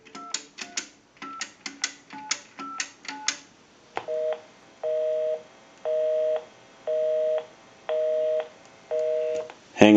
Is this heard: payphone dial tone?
yes